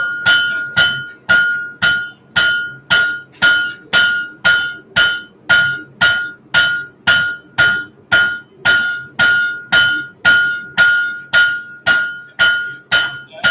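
Heavy hammer blows ring out on a heated railroad spike being forged toward a blade shape on an anvil, about two steady strikes per second, loud and close, each hit giving a bright metallic ring throughout.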